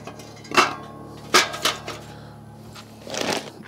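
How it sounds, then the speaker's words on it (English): Charcoal briquettes tumbling into a Weber Jumbo Joe grill, a few distinct clattering rattles and scrapes, close and fairly loud, separated by short pauses. "go ahead and get that filled up with charcoal. So let's do that right now"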